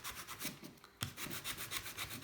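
A bike part is polished by hand, soft rhythmic rubbing strokes back and forth, close but faint, with a short pause midway.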